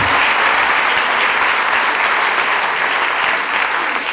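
A festival crowd at a film festival's opening night gives a loud, steady round of applause that fills the room without pause.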